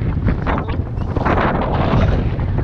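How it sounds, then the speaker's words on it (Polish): Strong wind roars and buffets steadily against the microphone, a dense rumbling rush with no pauses, on the high Ak-Baital mountain pass in the Pamirs. "Jedziemy pod ten kurde cholernie silny wiatr."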